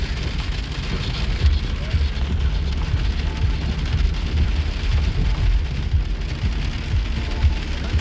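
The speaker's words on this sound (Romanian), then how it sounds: "Plouă, plouă, plouă afară." Steady rain falls and patters on surfaces outdoors in Iași, Romania, a dense continuous hiss with a low rumble beneath, at a constant level throughout.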